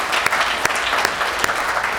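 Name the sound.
applause for the choir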